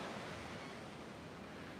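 Ocean waves rolling in at an oceanfront beach in San Diego, a steady, loud, broadband wash of surf that fills the whole moment without any talk.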